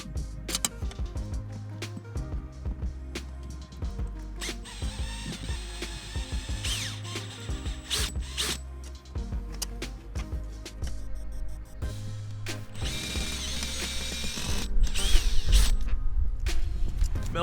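A power drill whirs in repeated bursts while spinning a nut off a mailbox post, close and loud, with short pauses between runs and some clicking.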